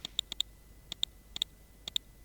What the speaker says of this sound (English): you can hear the clicks of the mouse